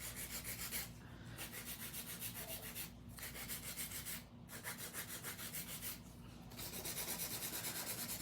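Acrylic nails are filed with a 100 grit nail file in a fast, steady back-and-forth rasp, close and continuous with a few brief pauses, no speech.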